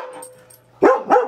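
After a quiet moment, a German Shepherd lets out two sharp, close barks in quick succession.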